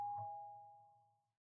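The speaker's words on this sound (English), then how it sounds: "Who is ringing my doorbell?" A single electronic doorbell chime rings out clearly, then fades away slowly over about a second with no other sounds.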